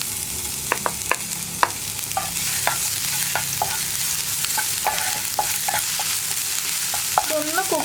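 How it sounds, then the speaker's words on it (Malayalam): Crushed ginger and garlic fry in coconut oil for an okra curry, giving a steady, close hiss of sizzling broken by frequent spoon scrapes and taps against the pan, with no talking. "ഇതിലേക്ക് നമ്മൾ ചതച്ച് വെച്ചിരിക്കുന്ന ഇഞ്ചിയും വെളുത്തുള്ളിയും ചേർത്ത് കൊടുക്കുക"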